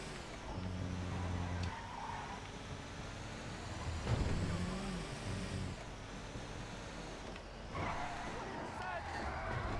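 A slow, heavy tow truck in a transport tycoon game drives with a steady engine rumble, whine shifting as it swings around corners, continuous throughout with wind-like noise and a brief louder surge midway.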